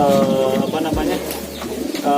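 A white racing pigeon coos in soft, low throaty bursts close by, while someone talks over it.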